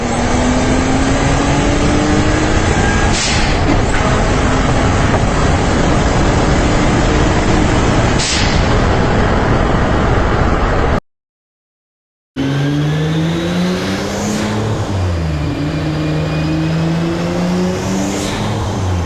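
A turbocharged Nissan Maxima with a six-speed swap revs hard and loud nearby, its engine note climbing and falling through gears, with a short dead gap before it roars again.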